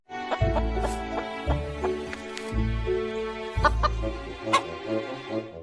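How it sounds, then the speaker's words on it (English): A hen clucking in repeated short bursts, fairly close and clear, set against a backdrop of a children's alphabet song with instrumental accompaniment. "H for hen."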